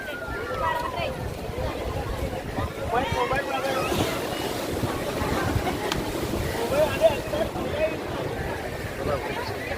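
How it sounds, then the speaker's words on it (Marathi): Rough sea surf and gusting wind roar steadily throughout at Alibag beach, with heavy wind buffeting the microphone and people talking over the noise. "समुद्र खवळलेला आहे"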